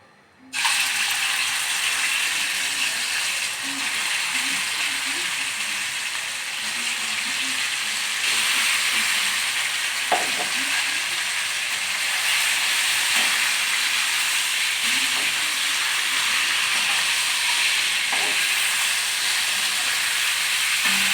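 Chicken pieces sizzling in hot oil in a karahi for street-style Peshawari charsi chicken karahi, a steady dense hiss with faint crackles and occasional ladle clinks, continuous and close throughout.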